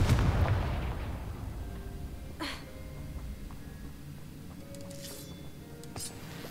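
Confringo fire spell blast in Hogwarts Legacy: a loud burst at the start decaying into rumble, followed by a couple of sharper cracks and impacts later, over game ambience.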